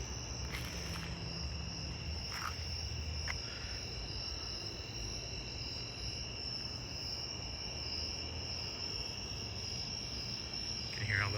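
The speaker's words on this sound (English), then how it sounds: "All those cicadas going in night here in North Carolina." Cicadas shrill in a continuous high, layered buzz on a dark night in North Carolina, moderately distant and steady, with a few faint brief clicks scattered through.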